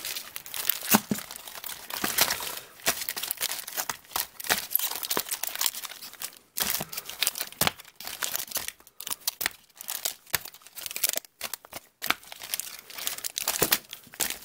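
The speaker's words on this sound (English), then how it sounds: "so I'm just gonna shuffle these real fast" Rapid crinkly flicking and riffling of stiff Pokémon Sun and Moon trading cards being shuffled, a continuous crisp rustle with sharp snaps, fairly close, with no talking.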